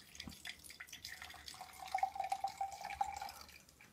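Absinthe is poured into a rakı glass, heard as a quiet close trickle with small drips that builds into a brief steady thin stream midway, then tapers off.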